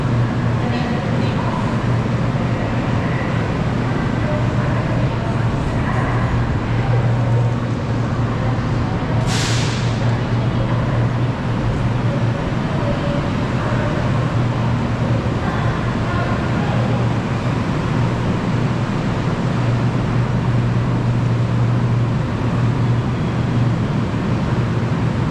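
A passenger train rolls along in Malaysia, heard from inside the carriage as a steady loud rumble and hiss of wheels and motors, with a brief high squeal partway through.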